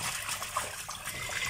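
Water is drained off chicken hearts while cooking, giving a continuous trickling, splashing pour close by that runs without a break.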